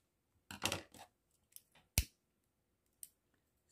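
Scissors snip through ribbon in a few quick, close cuts, a sharp burst of snipping followed by isolated crisp clicks of the blades, quiet and without any voice.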